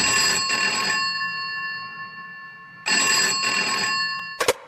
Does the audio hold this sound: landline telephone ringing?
yes